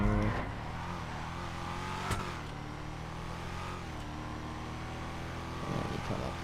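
A car drifting around a corner on a drift course, its engine holding a steady, sustained rev close by with a faint tyre hiss and a brief swell near the end.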